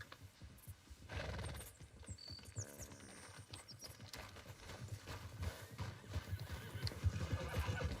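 A horse in Red Dead Redemption 2 neighs and whinnies several times over steady clip-clopping hooves, with some mechanical clicking mixed in, at moderate volume.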